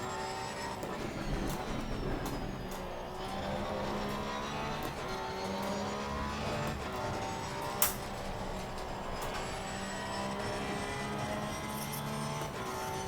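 Porsche 911 GT3 R race car in Assetto Corsa Competizione, engine droning with shifting revs as the throttle lifts and reapplies through a corner, steady and loud with a brief sharp click midway.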